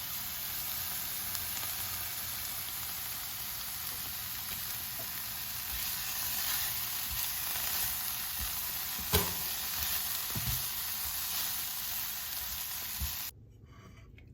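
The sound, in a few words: tofu stir fry with veggies and black beans frying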